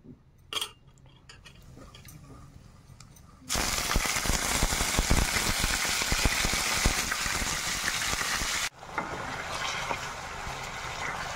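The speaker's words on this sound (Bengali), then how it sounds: "এবার এই মাংসগুলো আগে ভেজে নেব।" Meat frying in a hot pan gives a loud, steady sizzle that starts suddenly after some quieter clinking, continues for about five seconds, then drops to a softer sizzle.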